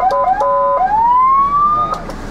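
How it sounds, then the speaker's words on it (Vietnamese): Close, loud electronic siren on a vehicle equipped with emergency lights and an air horn: a few quick stepped yelp bursts, then a long wail sweeping upward and cutting off. "Tiếng còi hú và đồng thời tiếng còi air horn là."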